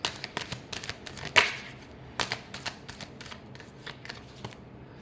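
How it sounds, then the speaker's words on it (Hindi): A deck of tarot cards is shuffled by hand in quick riffling bursts, crisp papery flicks repeating through the clip, close and clear with no talk over them. "last shuffle"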